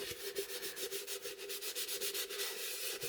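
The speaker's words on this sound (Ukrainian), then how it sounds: "беру знежирюю поверхню, добре промиваю і знежирюю" A jar surface being wiped down and degreased for decoupage, heard as quick, steady rubbing strokes in a close, even rhythm with no one speaking.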